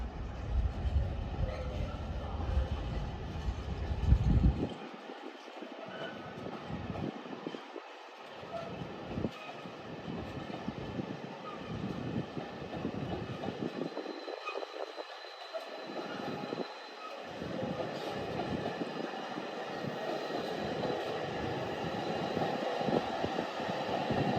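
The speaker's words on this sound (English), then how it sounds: "Now departing finally. This is GB Rail Freight Class 66." A GB Rail Freight Class 66 diesel freight locomotive departs from York on the East Coast Main Line. Its heavy engine rumbles loudly and steadily, with wagons grinding along throughout, and a brief louder surge near the start.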